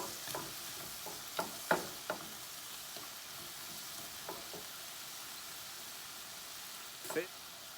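Food frying in a pan for pasta Benito, a faint steady sizzle broken by a few louder clanks and stirring scrapes, with no talking.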